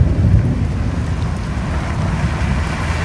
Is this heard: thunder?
yes